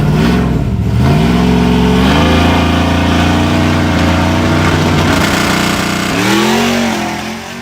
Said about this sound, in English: This is a Chevy truck.